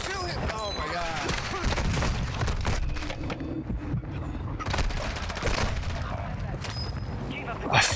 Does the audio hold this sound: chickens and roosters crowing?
no